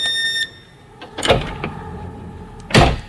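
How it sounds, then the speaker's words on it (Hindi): A door heard as a horror story sound effect, with a short creak followed by a couple of knocking thuds and then one louder bang as it shuts, set against a faint ringing tone at the start. "थोड़ी देर बाद दरवाजे की आवाज आई"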